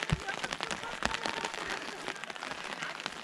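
Rain patters steadily on a surface nearby aboard a cruise boat on Maligne Lake, with scattered drips and taps throughout.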